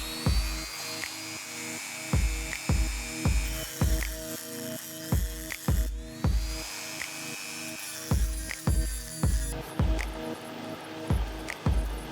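Dremel rotary tool cutting down a copper and wood ring, a repeated series of short grinding bursts with a high whine, close and fairly loud, with no voices.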